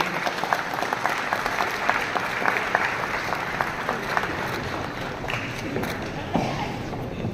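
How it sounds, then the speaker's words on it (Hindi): Steady applause from a large audience fills a dairy industry conference hall, dense and continuous clapping with faint voices mixed in. "दोस्तों तालियां बजती रहनी चाहिए"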